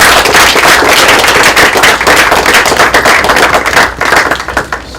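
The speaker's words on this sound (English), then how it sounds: "I think we can applaud more loudly than that." Loud, dense applause from a university audience at a literary event. The clapping is a steady crackle that holds for several seconds and then starts to thin out at the end.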